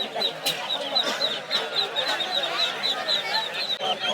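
Chicks and ducklings at a Sunday village market in Sonargaon give rapid, high repeated peeps at a steady pace over a busy crowd background, with voices talking nearby.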